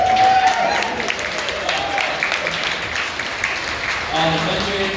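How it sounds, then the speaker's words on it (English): Guests at a wedding reception applaud for the caterers, a moderate, continuous round of clapping from a crowd. Voices and cheers mix in and out beneath it. "Everybody give a round of applause for the caterers."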